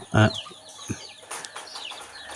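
A white, black-spotted native country hen of an old lineage clucks in short, scattered calls nearby, alongside other chickens, with a brief human voice at the start.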